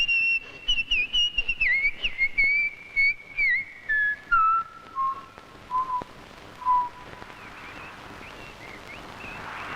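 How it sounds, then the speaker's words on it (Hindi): A person whistles a clear melodic tune in a Hindi film scene, with short repeated phrases gliding downward in pitch over several seconds, close and prominent, then fading into quiet room noise. "नौकर होकर तुझको इतनी भी तमीज नहीं है कि जब घर में मालिक या मालकिन हो तो नौकर को सीटी नहीं बजानी चाहिए?"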